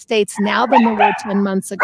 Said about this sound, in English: Sorry about the loud dog in the background.